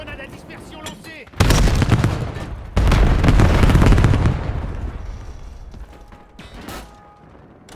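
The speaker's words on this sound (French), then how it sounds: "Grenade à dispersion lancée" Cluster grenade blasts in Call of Duty Black Ops 7 multiplayer: two loud, broad explosive bursts a second or so apart, each rumbling and crackling before fading, with quieter game sounds around them.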